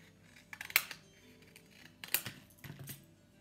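Scissors snip through a painted cardboard toilet paper roll in three quiet, close, crisp cuts spread over a few seconds in a calm indoor setting.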